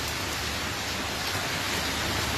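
Steady heavy rain in July falling continuously, a dense even hiss close by with no voices.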